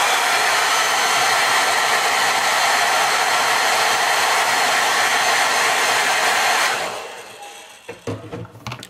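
A hair dryer runs loud and steady for painted miniature skulls, a constant close whir that switches off near seven seconds and leaves faint handling sounds behind.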